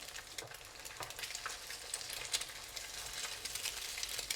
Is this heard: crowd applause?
no